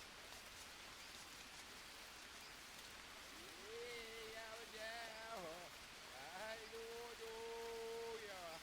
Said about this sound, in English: Oh, thunder. It's raining.